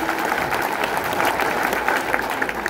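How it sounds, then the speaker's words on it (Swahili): A crowd claps for the Murang'a governor at a public gathering, continuous loud applause with a busy murmur of voices mixed in. "Tumpatie makofi mazuri kushinda haya."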